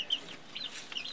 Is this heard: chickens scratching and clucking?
yes